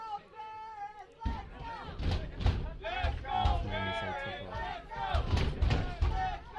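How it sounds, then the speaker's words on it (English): Crowd at a high school varsity boys lacrosse game chanting in rhythmic bursts, with a voice talking over the cheering and chanting throughout. "you could hear the chants"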